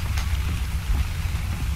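Steady rain patters continuously in the Ark: Survival Evolved video game, a soft, even hiss with a low rumbling undertone and no voices.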